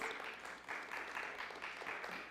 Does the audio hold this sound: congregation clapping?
yes